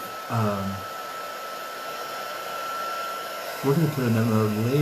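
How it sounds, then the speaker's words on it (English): A craft heat tool blows steadily while drying a layer of cardstock on a handmade card, giving a constant whirring hiss throughout as someone talks over it at the start and end. "I am going to take my heat tool and dry this"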